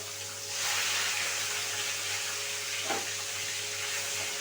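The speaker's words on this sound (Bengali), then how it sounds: "মাছগুলো দুপিটটা ভালো করে আমাকে ভেজে নিতে হবে" Fish pieces (kalta fish) frying in oil in a kadai give a steady, moderately loud broadband sizzle with a faint hum underneath and a brief bubbling swell near the end, with no voices.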